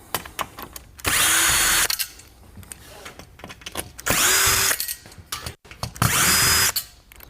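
A power drill removing screws from shutter tracks whirs in three bursts of about a second each, separated by quieter handling clatter and small knocks.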